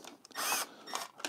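A power drill drives screws while accessories are fitted to a BMW R1250GSA motorcycle, giving short, loud whirring bursts that stop and restart with brief pauses, close by and with no talk.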